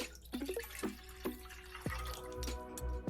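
Water pours and drips into a small pan for churro dough, with splashy ringing plinks and a brief stream, close by and fairly quiet.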